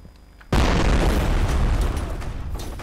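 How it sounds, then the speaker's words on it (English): A grenade explodes in the shooter game F.E.A.R. with a sudden loud boom after a quiet moment, followed by a long, rumbling roar that slowly fades. "Can you just throw a grenade at me?"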